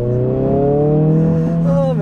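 2022 Honda Civic Si turbocharged engine accelerating hard, a loud rising tone climbing steadily through the revs, heard close from inside the car.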